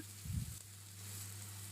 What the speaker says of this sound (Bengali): এদিকে পেঁয়াজ কুচিটা দিয়ে দিলাম